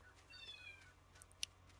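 A cat meows once in a quiet room, a faint drawn-out cry followed by a brief click, all low in level over a steady background hum.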